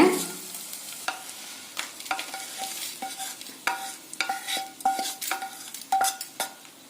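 A spoon stirs fried onion, chillies and asafoetida in an oiled pan for drumstick-leaf thuvaiyal, giving a run of quiet, irregular scraping strokes with a soft sizzle underneath.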